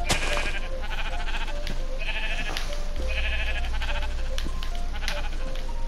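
Sheep in the Minecraft video game bleat several times in short wavering calls, some overlapping, loud and close over a steady game background.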